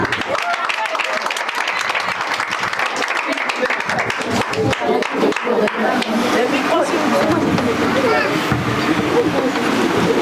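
An audience at an Easter church play claps and cheers, the applause building into a dense, continuous patter with voices mixed in throughout.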